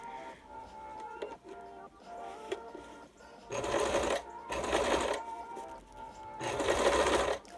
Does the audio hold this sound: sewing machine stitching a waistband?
yes